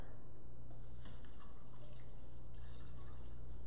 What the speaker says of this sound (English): And I'm also gonna add 2 cups of water.